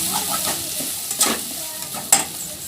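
Puffed rice upma being stirred in a pan, with a spoon scraping and tossing the mix in a few close strokes over a light sizzle. No voices.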